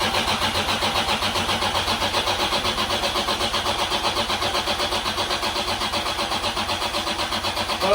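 A turbocharged car engine cranks over with a steady, rapid rhythmic chugging, then catches and runs, loud and close with no voices over it.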